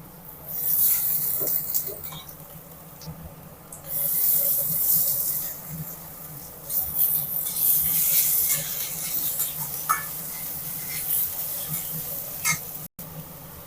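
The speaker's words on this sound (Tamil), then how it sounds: "நம்ம எண்ணெயில் வெங்காயத்தோடு சேர்த்து வதக்கிக்கலாம்" Onion and snake gourd sautéing in hot oil for a kootu: a continuous sizzle and hiss that swells in bursts as the pan is stirred, close and fairly loud, with no talking.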